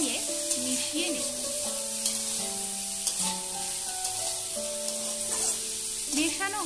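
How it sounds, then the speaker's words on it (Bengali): Ridge gourd peels marinated in salt and turmeric fry with chillies in a pan, a soft steady sizzle broken by light scraping and clinking as they are stirred. "এগুলোকে এবারে ভালোভাবে নেড়ে চেড়ে নিয়ে মিশিয়ে নেব।"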